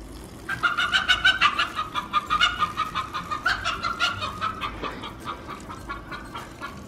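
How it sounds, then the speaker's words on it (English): A chicken clucks in a steady run of short, nasal calls that rise and fall, fairly near and loud, with no talking over it. "What is wrong with that chicken?"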